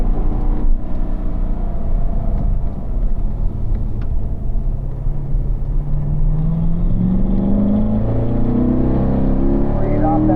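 Race car on the Spring Mountain track braking and downshifting, a loud droning engine with a steady rumble whose pitch falls and then climbs again as the gears change, sustained and close throughout.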